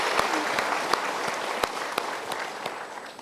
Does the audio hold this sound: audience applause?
yes